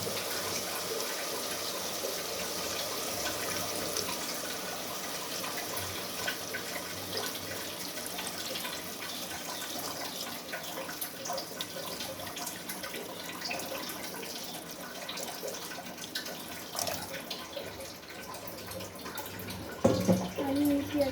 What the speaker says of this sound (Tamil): இப்போ நம்ம கறி முழுகிற அளவுக்கு தண்ணி ஊற்றிக்கலாம்